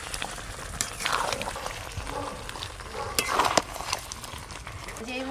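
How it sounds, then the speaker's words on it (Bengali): Chicken kosha sizzles and fries in a pan while a spoon stirs it and the released water cooks off, with a steady crackling hiss and occasional scraping of the utensil against the pan. "এইভাবে নাড়তে নাড়তে পুরো জল কিন্তু শুকিয়ে যাবে"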